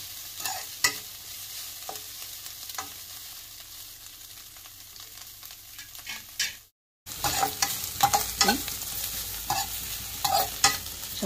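Capsicum and carrot stir-fried for egg noodles, giving a steady crackling sizzle with scrapes and clacks of a spatula against the pan, a brief dropout midway, then louder, busier stirring and frying. No one speaks.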